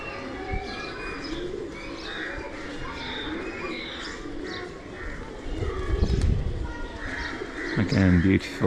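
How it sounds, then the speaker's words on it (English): Pigeons coo and chirp in a busy square in Kathmandu, Nepal, where people feed them. The soft, repeated calls sit over street bustle, with a few louder nearby bursts toward the end. "lots of pigeons, because people feed them"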